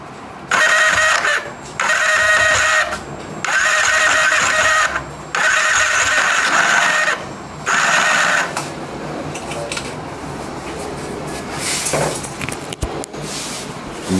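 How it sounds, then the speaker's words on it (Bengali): A Yamaha R15 V3 BS6 motorcycle engine with a broken magneto nut runs with an abnormal loud, harsh clattering, coming in repeated bursts about a second long, then settling into a rougher, quieter running noise. "কীরকম একটা বিকট ইঞ্জিনের সাউন্ড হচ্ছে, বাড়ি দিচ্ছে ঘের ঘের একটা শব্দ"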